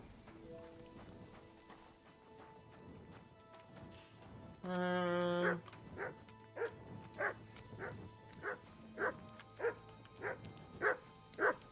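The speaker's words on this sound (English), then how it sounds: "What are you barking at?" Repeated dog barks from a video game creature in a mine area, a string of sharp evenly spaced yaps following a brief tonal chime, fairly close and clear over quiet game background.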